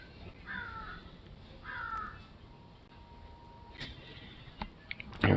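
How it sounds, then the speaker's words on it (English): Two clear crow caws ring out about a second apart over steady outdoor background noise, followed by a few faint clicks and a sharp knock near the end. "Crows are hanging out."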